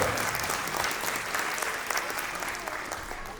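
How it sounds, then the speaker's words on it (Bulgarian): Dense crowd applause fills a school competition award ceremony as a winner in the second age group is honoured, steady and loud for the whole stretch, with no talk over it. "Аплодисменти за победителя във втора възрастова група."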